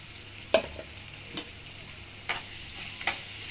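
Ground spices (turmeric, chili powder, roasted cumin powder and salt) sizzle softly in a pan, with a few distinct scrapes of a spoon stirring them at intervals.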